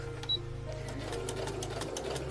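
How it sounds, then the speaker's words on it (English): A sewing machine runs back stitches into a small doll sock: a quick, even mechanical chatter at close range, fairly quiet and steady, with no talk. "doing a couple of back stitches, and then I'm going to sew kind of to the first bump in the sock"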